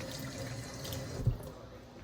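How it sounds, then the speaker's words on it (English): Hands rinsed under a running kitchen tap between seasoning raw chicken: a steady close rush of water with one brief thud near the end. "So now let me rinse out my hand again before I put it back in my meat."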